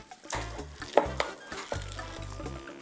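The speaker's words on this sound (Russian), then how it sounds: "Перемешала." Cheese filling for vatrushka pastries is stirred in a bowl, giving soft scraping strokes in an uneven rhythm with a few sharper clinks, quiet and close.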